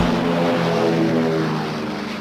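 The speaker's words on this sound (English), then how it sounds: "Planes are launched to respond to a threat in the area." WWII propeller fighter planes take off from an aircraft carrier in the Pacific. Their engines make a loud, continuous droning roar that eases slightly toward the end.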